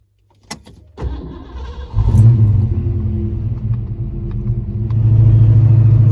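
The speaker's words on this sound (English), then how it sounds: "So we are going to take the Fox for a drive for the first time in like a month." A Ford Fox Body Mustang starts up and pulls away, a loud close engine rumble that climbs as it accelerates and settles into a steady droning cabin hum, with no speech.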